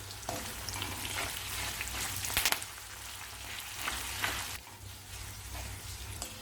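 Curry leaves sizzle and crackle steadily in oil in a pan, a dense hissing fry with a few louder pops, no voices.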